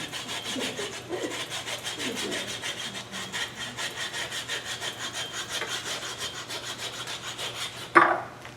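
A hand saw works steadily back and forth through wood held on a lathe for turning a scoop, the rhythmic rasping strokes continuing close and loud, then ending in a sharp knock near the end.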